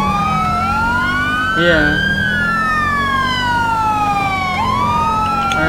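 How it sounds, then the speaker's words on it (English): Emergency vehicle sirens in the LSPDFR police game wail loudly and continuously, their pitch sweeping up and down over an engine drone, with a brief spoken word mixed in. "let's cut our sirens here"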